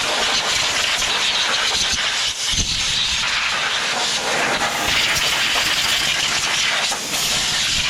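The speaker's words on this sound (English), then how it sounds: "we'll blow it out real good" Compressed air blasts steadily into the opened engine compartment of a John Deere riding mower, a loud, continuous hiss that barely dips for the full stretch.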